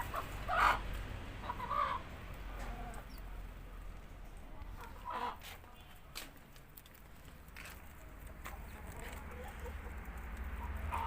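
Chickens on a farm cluck and call now and then while being fed torn lettuce, with soft pecking patter and a low steady background hum throughout.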